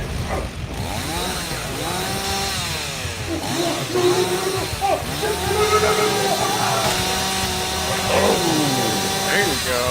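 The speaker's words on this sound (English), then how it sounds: "the chainsaw's not spinning in that scene, but it's not spinning until it revs" A chainsaw revs repeatedly in a film scene, its pitch sweeping up and down in rising and falling surges, loud, with other voices and sounds mixed beneath it.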